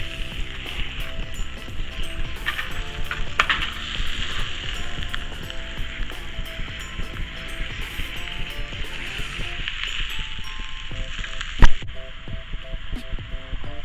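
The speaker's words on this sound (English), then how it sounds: "I'm going to brown the sausage with the onions." Sausage and onions browning in a pan give a steady, close sizzle with a humming undertone that runs throughout, with one sharp clink near the end.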